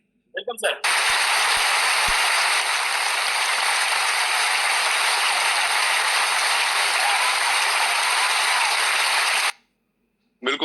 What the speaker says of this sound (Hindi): साथ साथ एक बार सबकी तालियां